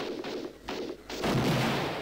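Gunfire in the Platoon TC mod for Duke Nukem 3D, a run of sharp shots followed by a denser, louder burst of firing near the end.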